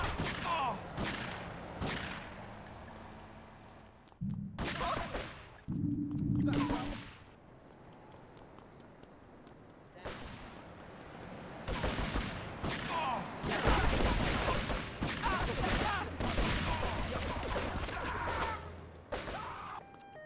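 Shotgun blasts in GTA3 during a Shoreside Vale rampage in Liberty City, a run of loud, sharp bursts spread across the clip with crashing impacts and clatter around them, no talking over it.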